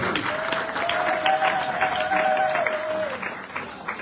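A church congregation claps and cheers during a deliverance seminar service, steady applause filling the room while a sustained sung or shouted voice rises above it before the noise fades.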